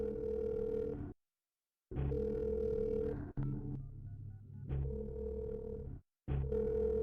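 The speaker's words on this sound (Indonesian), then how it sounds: "cepat angkat telepon" A telephone ringback tone plays while a call goes through, a repeating electronic melodic pattern in bursts of about a second separated by short silences, clear and moderately quiet.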